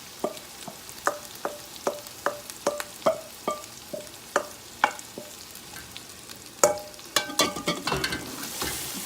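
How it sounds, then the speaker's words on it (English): A spoon scrapes and stirs egusi in a pot in a series of distinct strokes, with a soft frying sizzle underneath, close by and without speech. "Pour the egusi and we turn it"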